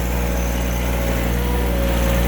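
A backhoe engine runs continuously up close, giving a loud, even mechanical drone with a steady humming tone and no pauses.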